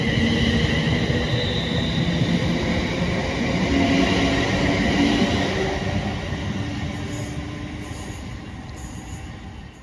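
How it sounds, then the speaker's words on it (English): A Class 350 electric train, unit 350 108 coupled to 235, runs through a station on the Trent Valley Line. It is loud and close, with a steady roar of wheels and motors and faint wheel squeal, easing slightly toward the end. "there goes 350 108 working the 1304 London North Western Rail service to London Euston from Crewe"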